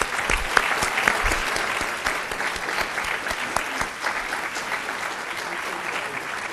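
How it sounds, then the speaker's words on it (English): A room full of people applauds after a string quintet performance at a Board of Education meeting, sustained dense clapping that gradually thins toward the end. "One more round of applause."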